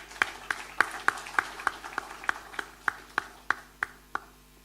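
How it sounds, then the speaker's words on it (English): A small audience at a debate event claps for the vote-of-thanks speaker: about a dozen distinct, evenly spaced claps ring out crisply, sounding like a single pair of hands or a sparse few in a quiet hall. "Please let's give him a round of applause"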